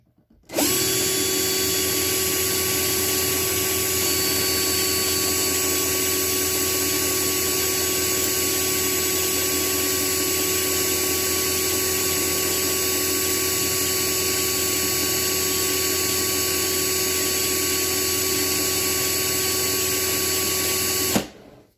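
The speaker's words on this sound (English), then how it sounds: "you are drilling away at metal" A power drill bores steadily into the pot metal post of a Matchbox or Hot Wheels toy car, one long unbroken high whine held at constant pitch for about twenty seconds, loud and close.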